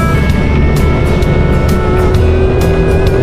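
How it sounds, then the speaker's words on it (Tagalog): A motorcycle ride toward a mangrove area near a lagoon beach in Cebu, with a steady loud engine drone and rushing wind filling the whole stretch, close up and continuous. "Sakay tayo ng motor."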